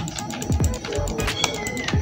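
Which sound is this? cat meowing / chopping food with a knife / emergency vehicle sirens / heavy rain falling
cat meowing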